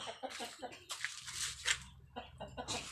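Big egg-laying, brooding hens cluck close by in a farmyard, short repeated calls scattered across the stretch while someone talks over them.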